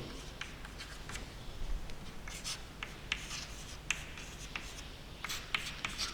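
Chalk or marker writing on a board during a geometry lesson on lines and angles, soft scratchy strokes and taps in quick irregular bursts, close and fairly quiet, with no talking.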